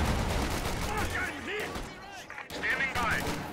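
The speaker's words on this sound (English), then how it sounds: "all pinned down by a stolen MG-42 right there" Stolen MG-42 machine gun fire in a Company of Heroes-style strategy game battle, rattling in dense continuous bursts amid other gunfire and explosions, with a commentator talking over the combat.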